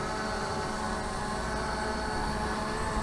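The motors of a ZLRC SG906 Pro drone whir in a dense, steady drone during its automatic takeoff, close and constant throughout.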